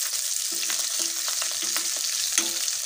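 Corned beef frying in a pan, a steady high sizzle running throughout with a few soft scrapes and clinks of a utensil, close and moderately loud with no talking.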